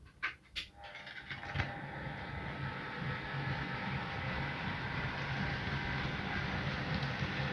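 Model railway locomotive running steadily on track, a continuous rumbling drone with faint rail clatter, preceded by a couple of sharp clicks at the start.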